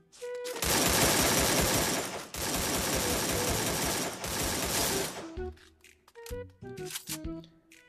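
Rapid automatic gunfire in the Free Fire video game, long dense bursts lasting a few seconds each, then a few sparse shots with clicks and mechanical sounds.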